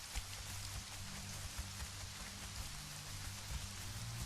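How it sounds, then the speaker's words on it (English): Steady rain falls in the survival game Conan Exiles, a continuous dense hiss of drops with occasional louder patters, alone with no voices over it. "It didn't take long for the rain to start."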